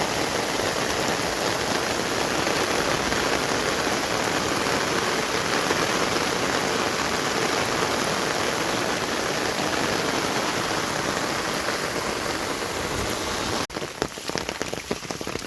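Heavy rain pours down steadily on a rural farm pond in Thailand, a dense, loud hiss that fills the scene for about fourteen seconds before breaking into a rougher, crackling spatter near the end.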